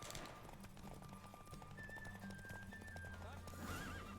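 A horse in The Witcher 3 gallops with steady clip-clop hoofbeats and lets out whinnying neighs, mixed with game music and effects while someone talks over it.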